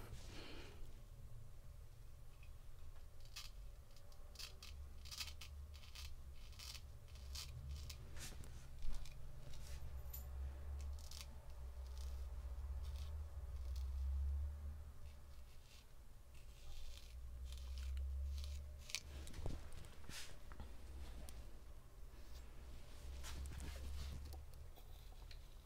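A Hayashi Diamond straight razor scrapes across lathered stubble in close, soft rasping strokes, repeated in an irregular rhythm over a steady low hum.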